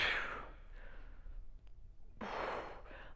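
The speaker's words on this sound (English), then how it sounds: "I probably should have worn the windscreen on my microphone so you're not hearing all of this breathing here" Heavy, close breathing picked up by a microphone during a TRX bodyweight strength workout at home: a loud breath at the start, a quieter stretch, then another strong exhale, with no talking.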